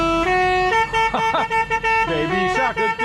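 Tractor horns blare a tune in a farmers' protest convoy in the streets of Paris. The loud, close, sustained melodic honks come in short phrases, with voices and street noise between them.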